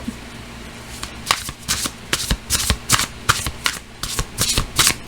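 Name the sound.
shuffling tarot cards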